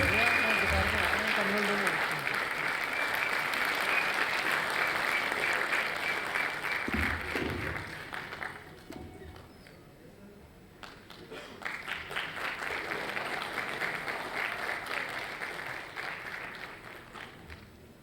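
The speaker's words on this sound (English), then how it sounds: "Let's give him a warm welcome and a huge round of applause, parents." Sustained audience applause at a school annual day ceremony welcoming Justice Lalit, dense clapping that runs steadily, dips briefly midway, then swells again with faint crowd noise underneath.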